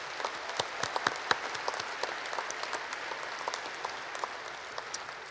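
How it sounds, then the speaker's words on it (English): Steady applause from an audience at a DGA 2021 awards speech, dense and continuous clapping with scattered sharper claps throughout, moderately distant and with no talking over it. "Please give the class of 76 a round of applause."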